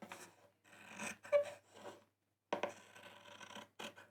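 Sewing scissors cut through quilting fabric in short crunchy bursts, close and crisp, with pauses between snips and a clear silent gap midway.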